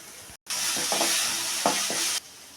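Ginger garlic paste hitting browned onions in a hot pan, a loud sustained sizzle starting abruptly after a brief silence, with a couple of soft stirring scrapes, then cutting off.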